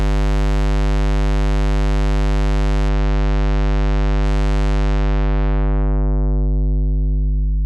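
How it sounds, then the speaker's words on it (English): A steady buzzy square wave is gradually filtered, losing its brightness and mellowing into a smooth, pure sine-like hum by the end; continuous and loud, no voices. "filtering out the high frequencies from a square wave, you gradually end up with something closer to a sine wave"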